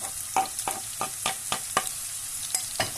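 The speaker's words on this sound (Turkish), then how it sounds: "Karıştırmaya devam ediyorum." Garlic sizzles in a pan of zucchini dish ingredients while being stirred, with regular scraping strokes about every quarter second over a steady frying hiss, close and clear.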